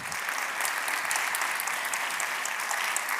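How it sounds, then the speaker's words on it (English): Sustained applause from a conference audience at Hague Talks for speaker Susana Muhamad, a thick, even wash of many hands clapping close by with no pauses. "a big round of applause, everyone, for Susana Muhamad"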